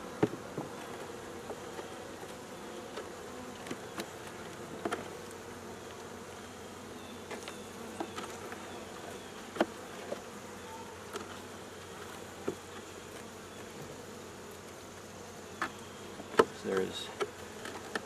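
Honey bees buzz steadily around hives while a beekeeper works on winterizing them, a faint continuous drone with scattered clicks and knocks of hive parts; a brief spoken remark occurs.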